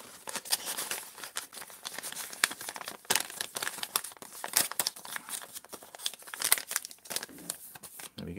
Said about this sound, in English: putting that in the envelope.